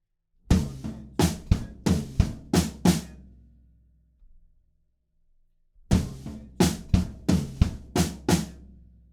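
Tom-tom drum beat from a song, played alone in two bursts of about six strikes each, loud and close, with the drums ringing out through a short gap between the phrases.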